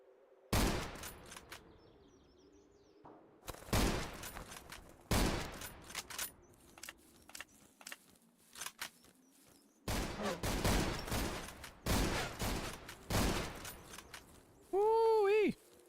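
Bursts of gunfire in World of Warcraft, loud volleys of shots repeating in clusters with short quiet gaps between, ending in a brief ringing magical chime.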